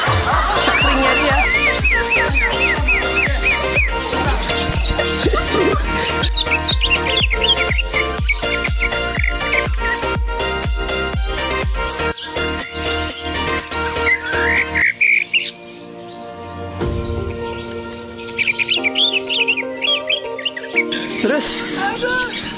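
Green leafbird (cucak ijo) singing loudly and continuously, a rapid run of varied whistles, chirps and trills with dense repeating notes, briefly dipping before resuming, with people talking in the background.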